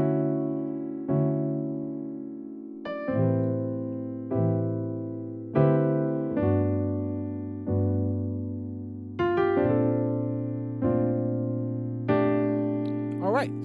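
Sustained piano chords from a song change every second or two in a gentle progression, each attack decaying into the next, with a few quick flourishes near the end.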